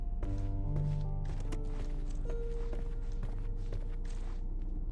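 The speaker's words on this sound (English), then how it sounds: "I heard footsteps upstairs a second ago." Footsteps in the Sherlock Holmes Chapter One video game sound in a series of soft thuds set against sustained tonal background music, fairly steady across the scene.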